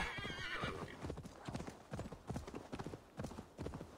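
Horse hooves clip-clop in a steady galloping rhythm, close and loud, in the Assassin's Creed Valhalla video game, with a whinnying neigh near the start and a faint voice briefly underneath.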